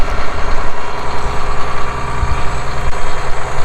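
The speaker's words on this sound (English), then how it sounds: "let that tractor warm up." Tractor engine idling nearby while warming up on a chilly morning, a loud, steady diesel rumble with a rhythmic chugging pulse and no talking.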